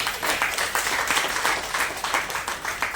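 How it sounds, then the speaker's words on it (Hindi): An audience claps together at a motivational training session, a steady burst of applause with no talk over it. "ताली बजाइए एक बार मैडम।"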